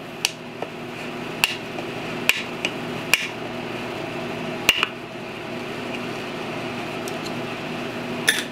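Steel nubs being popped out of a wooden kitchen tabletop, heard as a handful of sharp metallic taps and knocks spaced irregularly over a steady low room hum, fairly close and with no talking.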